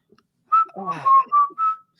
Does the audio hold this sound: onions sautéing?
no